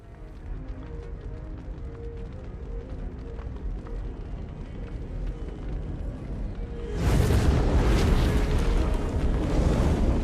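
A steady roar of fire in the video game Clair Obscur: Expedition 33 grows abruptly louder and fuller partway through, a dense continuous crackling rush with no pauses.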